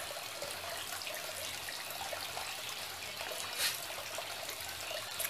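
Fish sucking air at the water surface produce steady trickling, dribbling water noise throughout, with one brief louder splash partway through; no one speaks.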